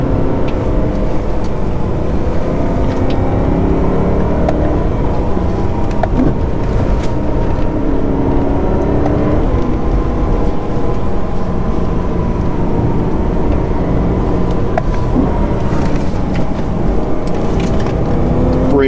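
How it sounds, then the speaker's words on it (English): A supercharged 2011 BMW E90 M3 with its S65 V8 drives along a back road, heard from inside the cabin as a loud, steady engine drone with shifting pitch, road rumble and rattles, with no voices. "And this engine, oh my god, the S65 engine sounds amazing."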